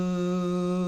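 A human voice hums a steady, very low sustained "voo" tone that imitates a boat's foghorn, resonant and even for about a second.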